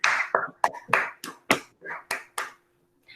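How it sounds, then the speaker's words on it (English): Children in a senior kindergarten class session clap for a classmate named Rayan, about nine crisp, uneven claps in quick succession, close and fairly loud, then silence. "Give a big round of clap for Rayan children."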